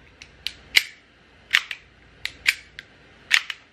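Short sharp mechanical clacks, about eight, come from racking the slide of a Glock 42 airsoft BB gun. They are close and irregularly spaced, with no talking.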